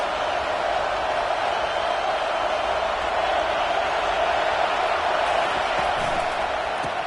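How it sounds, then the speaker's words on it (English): A steady, distant roar from a football stadium crowd fills the air at an EMG versus Miss St game, a constant broad wash of noise with no distinct cheers rising out of it. "This crowd trying to make life miserable for this offense."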